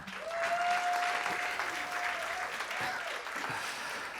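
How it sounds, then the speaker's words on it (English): Applause from a tech conference audience welcoming a speaker, sustained clapping at even loudness for several seconds, with a whistle-like tone and some crowd noise underneath. "Big round of applause for Clint."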